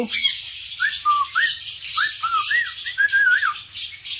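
African lovebirds in a cage colony setup give a run of sharp, rising squawks and whistled chirps, about ten calls over a few seconds, loud and close with no talk.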